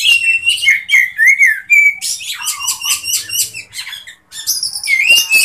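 A kacer, or magpie robin, sings a varied, loud, close song of bright whistles, trills and chirps in quick phrases, with no voices.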